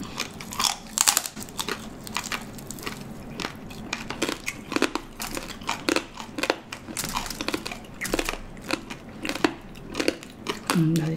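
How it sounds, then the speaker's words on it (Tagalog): Crispy oven-roasted lechon skin being bitten and chewed up close: loud repeated crunches and crackles in an uneven rhythm, with brief voices mixed in. "Balat. Lechon siya, pero pinalutong ko sa oven."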